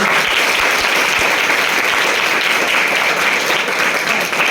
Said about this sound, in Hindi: जोरदार ताली जवाब पूरा करते हैं